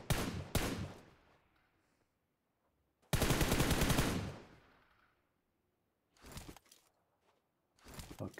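Bursts of rapid gunfire in PUBG Mobile, loud and close, separated by silent gaps, with a longer sustained volley in the middle and shorter bursts near the end.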